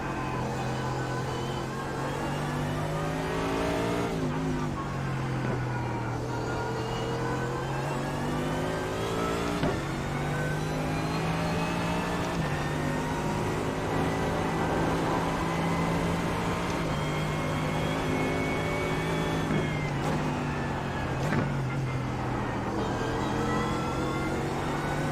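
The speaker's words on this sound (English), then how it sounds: "Good old Audi noises." An Audi race car engine at the Nurburgring 24 hour race, revving loudly and continuously, climbing through the gears with repeated sharp drops at each shift, close and steady with no talking.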